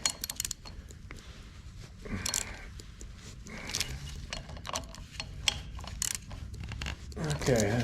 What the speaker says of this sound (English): It's a little final tightening here.